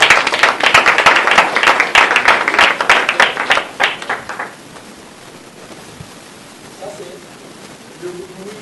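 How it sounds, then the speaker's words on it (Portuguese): Loud, close audience clapping at a conference, a dense burst of hand claps lasting about four seconds before cutting off into quiet room tone with faint murmurs. "Podemos aplaudir para isso?"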